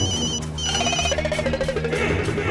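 The boss's call keeps coming in on a mobile phone in a sitcom home scene, a continuing melodic electronic ring in repeated tonal phrases, fairly loud, with a little background noise beneath.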